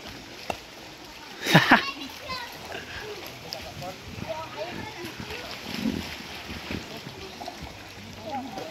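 Children jump into a natural spring pool at a resort in Subida, Malungon, Sarangani, Mindanao, with one loud nearby splash followed by lighter splashing and water movement while kids and adults talk and call out around it.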